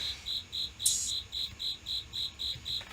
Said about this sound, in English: cricket, cricket, cricket, cricket.